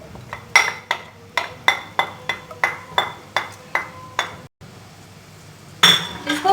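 A metal spoon clinks against a pan as onions go in for keema macaroni: about a dozen evenly spaced, bright taps, then a short pause and a louder burst of scraping and clatter.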